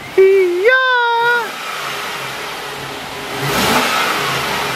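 Swapped V8 engine blipped hard once, a loud close rev that climbs and falls away within a second, then settles to a low idle rumble with a rushing hiss later on.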